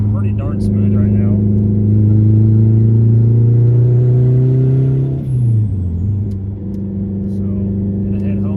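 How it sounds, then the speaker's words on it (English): A freshly tuned car engine on a break-in tune hums steadily nearby with a smooth, even drone, dipping briefly in pitch midway before settling back to a steady run. "Car's running pretty darn smooth right now."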